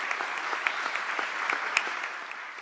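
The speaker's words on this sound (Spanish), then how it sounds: "Les pido un aplauso a mi padre." A seminar audience on municipal reform breaks into steady, moderate applause, a dense patter of clapping with a few louder claps standing out, no voices over it.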